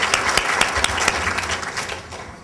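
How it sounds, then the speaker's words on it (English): An audience at a luncheon applauds, a burst of brisk, close hand clapping that thins out toward the end, with no voices heard. "we can applaud JFCS for that"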